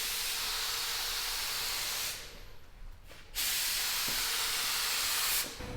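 A spray gun lays down clear coat mixed with top coat hardener, a loud steady hiss that stops briefly for about a second, resumes, then tapers near the end.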